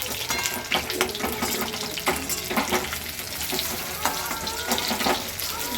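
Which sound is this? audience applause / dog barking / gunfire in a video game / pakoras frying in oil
pakoras frying in oil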